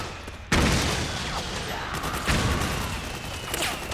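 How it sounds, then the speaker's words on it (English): Gunfire bursts out in the video game Metal Gear Solid 4, starting abruptly after a short quiet moment and continuing as sustained shooting with a second surge partway through, loud and dense across the clip. "Who's shooting at us?"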